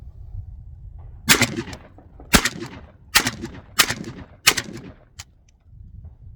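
A JTS M12AK-T1 shotgun firing 2 3/4-inch Winchester AA shells at an outdoor range, with five loud blasts about a second apart, each followed by a brief rumbling tail.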